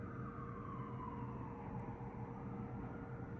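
Distant emergency vehicle siren wailing with a slowly falling tone over a low rumble of background noise, faint and continuous with no talking.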